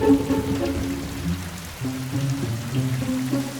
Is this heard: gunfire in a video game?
no